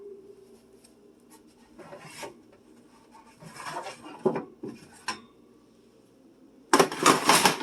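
Metal cake pans resting on a cookie sheet are lifted from the oven with pot holders, giving scattered scraping clatters and rattles, then a louder burst of metallic rasping and clanking near the end.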